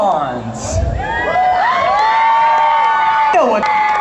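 A convention crowd cheers, whoops and shouts for costume walk-on performers, a loud sustained roar of voices with rising yells throughout.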